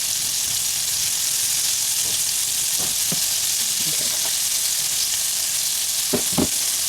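Okra coated in a cornmeal batter fries in hot oil with a continuous bright sizzle and hiss, steady and close, punctuated by a few soft pops and crackles and light stirring taps.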